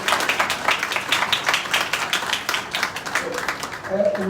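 Audience clapping at a public event opening an SBI regional office in Una, a dense patter of many hands sustained throughout, with a voice rising near the end.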